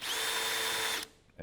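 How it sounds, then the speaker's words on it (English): A power drill fitted with a 7/32 bit bores through the grip area of an M1A rifle stock, a steady high whine held close for about a second before cutting off abruptly. "stick your 7/32 drill in there, go right through the hole, down to the stock"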